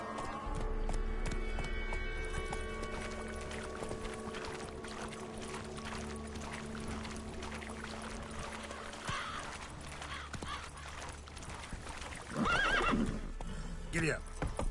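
A horse in The Witcher 3 whinnies loudly and gallops with rhythmic hoofbeats over game music and ambience, with a louder burst near the end.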